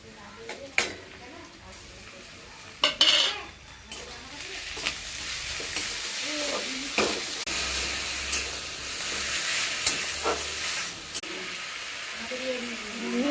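Onions and spice paste frying in a pan, with a soft sizzle and hiss broken by several sharp clacks and scrapes of a spoon stirring, while someone talks at intervals.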